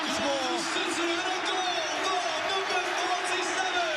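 A Premier League football stadium crowd roaring in celebration of a goal, a loud continuous wall of cheering and whoops with scattered shouts, dense and unbroken throughout.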